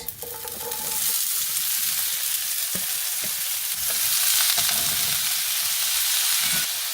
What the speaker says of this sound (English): I'm talking loud because of the sizzling sound.